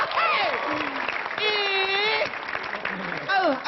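A stand-up comedy audience claps at a comedy battle show, the dense patter running throughout and swelling near the end, with voices calling and whooping over it.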